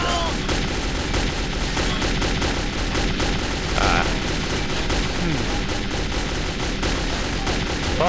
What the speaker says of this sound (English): being shot at by everything